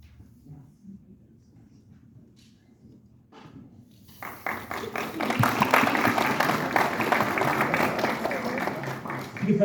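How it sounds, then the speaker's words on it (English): Crowd applause at an engineering oath ceremony, beginning after a quiet stretch of low murmur and then building into loud, sustained clapping from a large audience that continues to the end. "You could probably hold the applause if you want."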